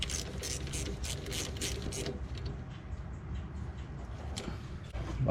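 Ratchet clicking rapidly while tightening the bottom bolt of a coilover on an Acura TL, a quick run of close metallic ticks that fades into faint clatter.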